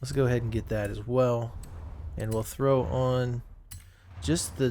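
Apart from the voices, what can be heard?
No distinct noise like a dog, phone or traffic.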